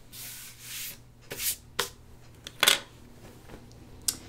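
Scissors trimming loose thread ends from the front seams of a tea house dress, several short, faint snips and rustles of fabric scattered irregularly, close by and quiet.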